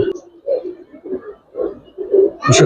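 Kaldam breed pigeon, a throat-strained type held in hand at a bird market, cooing in several low throaty phrases close up, with a sharper rustle at the end.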